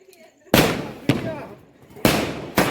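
Diwali firecrackers bursting nearby, with four sharp loud bangs at uneven intervals, each followed by a short decaying rumble.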